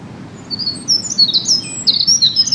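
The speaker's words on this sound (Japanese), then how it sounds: "あれその声は ミソサザイだね" A Eurasian wren sings outdoors in early spring, a loud, rapid, high-pitched string of trills and chirps over a low steady background hum.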